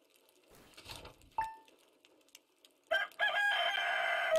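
Chicken from the Stardew Valley video game, clucking briefly near the start with one short tonal call, then a loud, bright rooster-like crow rising near the end, with no talk.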